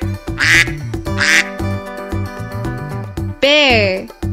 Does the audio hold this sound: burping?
no